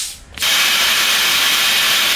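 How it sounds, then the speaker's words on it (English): After a brief quiet moment, a loud, harsh, continuous hiss starts abruptly and holds steady, like metal being cut with a plasma torch. "Going to get the plasma, cut this out"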